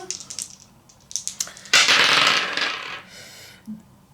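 Two small dice clatter lightly a few times, then tumble and rattle across a surface in a bright, close burst before settling.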